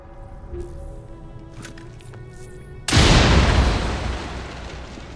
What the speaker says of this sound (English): Is that big enough of an explosion radius?